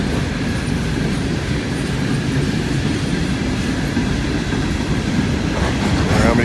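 A long freight train, including coal hoppers, rolls past on rails at Thurmond with a steady, loud rumble and continuous wheel clatter that builds slightly toward the end.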